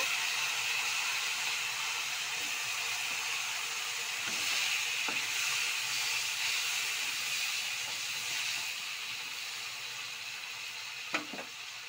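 Onions frying with spices and salt in a pan for a home-style Assamese dish: a loud, continuous close sizzle and hiss with a few soft stirring clicks and scrapes, no voices.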